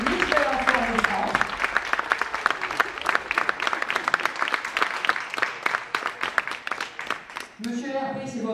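An audience at a Miss and Mister pageant evening breaks into prolonged, steady applause. Many hands clap for several seconds, with a speaker's voice heard just before and after.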